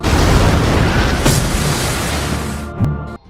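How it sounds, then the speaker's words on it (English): Grenade booby trap detonating inside a church, a loud sustained blast with rumbling debris that rolls on for nearly three seconds before a final thud and abrupt cutoff. "the priest had made a booby trap with a grenade"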